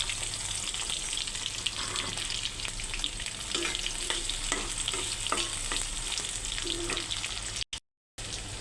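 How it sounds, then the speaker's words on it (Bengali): Chopped onion sizzles loudly in hot oil in a pan with crushed garlic while cooking chicken with ground spices, a steady close frying hiss broken by soft stirring scrapes, with no talking. "এর মধ্যে দিলাম পেঁয়াজ কুচি"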